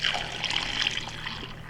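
Kombucha tea pours into a glass jar in a soft, steady trickle and splash, close and fairly quiet, lasting under two seconds.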